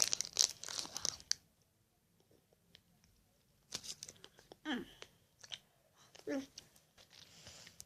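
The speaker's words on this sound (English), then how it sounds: "I'm chewing it now, it's better when" Someone chews and crunches a weird sweet right at the microphone, with crinkling wrapper and tearing sounds coming in scattered, irregular bursts and quiet pauses between them.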